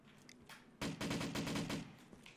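Rapid automatic gunfire from a zombie shooter video game, a single short burst of about eight closely spaced shots following a brief quieter lead-in.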